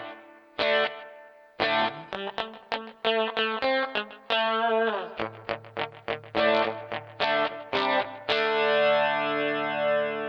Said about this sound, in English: So if I put this switch in the middle, I'll have both chorus and echo.